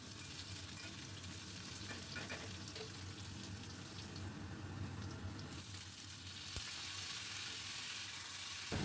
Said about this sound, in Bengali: বরবটি আর আলু বেশ ভালো করে ভেজে নিলাম।